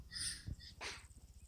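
A dog barks in the background during an Arma 3 squad training session, a couple of short, faint yelps over a low steady hum, with no talking.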